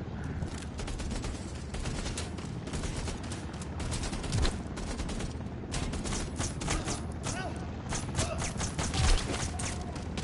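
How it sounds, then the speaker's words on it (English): Gunfire in a shooter video game crackles in dense, continuous bursts over a busy, noisy battle backdrop, with occasional heavier booms. "Wow, I missed every shot."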